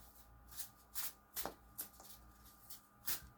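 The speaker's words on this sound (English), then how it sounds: "We'll shuffle the deck" A tarot card deck is shuffled by hand in quick riffling bursts, about seven short flutters in an uneven rhythm, close and quiet.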